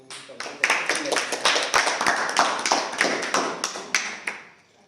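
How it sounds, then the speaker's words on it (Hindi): Children in a classroom clap in a fast, uneven flurry of sharp slaps for about four seconds, close and clear, fading out at the end, with a voice heard among them. "इसके लिए भी ताली।"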